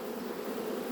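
Honeybees buzzing around a hive being combined for winter, a dense steady drone of many wings close by, continuous and fairly loud with no voices.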